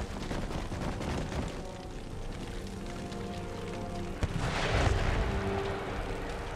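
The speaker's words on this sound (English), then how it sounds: "My howitzers are shooting at the wrong target." Howitzer artillery firing in the strategy game Empire Total War, a dense rumbling wash of distant cannon fire with one sharper blast partway through, continuous and muffled, with no talk.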